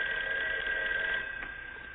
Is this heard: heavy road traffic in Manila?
no